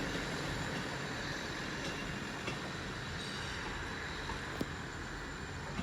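Class 159 diesel multiple unit 159019 rolling through Exeter St David's station, a steady rumbling wheel noise with faint rail clicks and a brief squeal, continuous and moderately distant.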